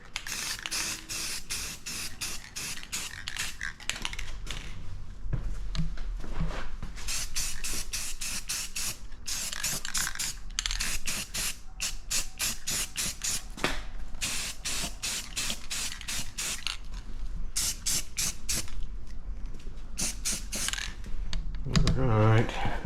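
Aerosol gloss black paint sprayed onto rear suspension parts of a 1987 Dodge D100 truck, a steady hiss in repeated bursts with short pauses between passes, close and fairly loud, with no voices.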